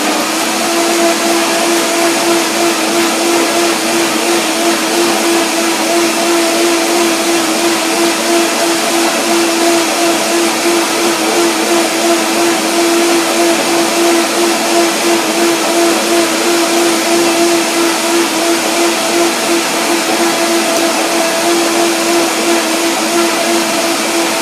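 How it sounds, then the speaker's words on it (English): A blender whirs steadily and loudly on vegan raw zucchini Alfredo dressing, a continuous motor drone with a constant tone that holds for the whole stretch with no talking. "But here I blend it again to make it a little bit more creamy."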